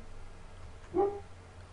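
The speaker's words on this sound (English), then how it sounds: "my dog downstairs is agreeing with all the moves with the bark" A single short dog bark rings out from downstairs, faint and distant, rising briefly above a quiet room hum.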